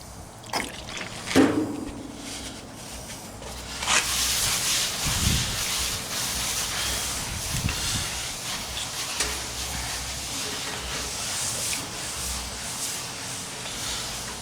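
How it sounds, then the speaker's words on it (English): Water hits a hot Blackstone griddle with a sharp sizzle, turning into a steady, loud hiss of steam that continues for several seconds. "Pour some water on here."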